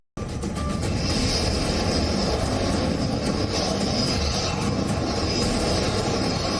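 An Indian Tejas fighter jet roars on takeoff, a loud continuous engine rush and whine holding steady throughout, close and unbroken.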